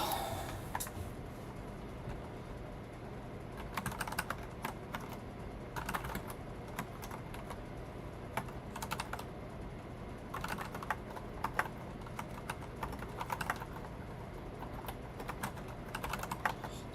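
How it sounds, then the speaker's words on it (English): Steady, fast clatter of typing on a desktop computer keyboard fills the whole stretch, close and continuous, with dense bursts of keystrokes and no talking. "It's been a while since I've typed on this keyboard."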